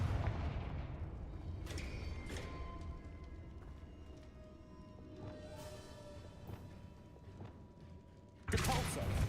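A Confringo explosive spell goes off in the Hogwarts Legacy video game, a run of booming, thudding blasts and magical crackles under a steady game soundscape, ending in a sudden loud burst.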